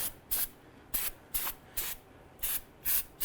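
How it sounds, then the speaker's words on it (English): Eight short bursts of aerosol solvent spray hiss onto the parking brake parts of a 2011-2017 Honda Odyssey in a steady rhythm, each a quick sharp spritz separated by brief pauses, close up. "Now we're going to go ahead and spray this down with a solvent."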